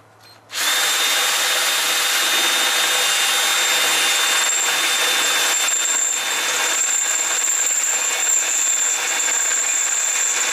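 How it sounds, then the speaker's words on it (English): A power drill whirs steadily and loudly for about ten seconds, starting abruptly after a brief quiet moment, with a constant high-pitched whine. "drilling some holes."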